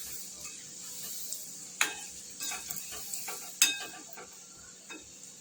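Peanut bhujiya frying in hot oil in a home kitchen, a soft steady sizzle with scattered sharper crackles and a few clinks of a utensil against the pan, no talking.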